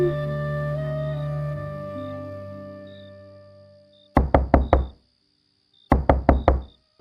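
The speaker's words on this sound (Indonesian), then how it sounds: "Siapa itu ngetok pintu malam-malam?" Knocking on a door at night in an animated drama: two loud, rapid bursts of about five raps each, separated by a short pause, following fading soft music.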